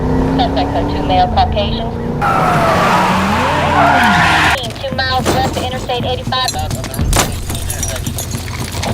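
A car speeds off with a loud tire skid and screech close by, part of a chaotic stretch that also has talking and clattering sounds.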